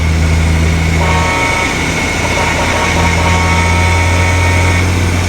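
Bus horn in a driving video game set on a Bangladeshi road from Chattogram to Cumilla, sounding loud, steady and sustained over a constant engine drone.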